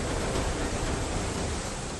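Floodwater in Manali roars in a dense, unbroken wash of rushing waves, loud and steady throughout with no voices over it.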